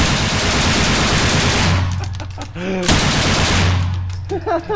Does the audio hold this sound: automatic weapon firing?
yes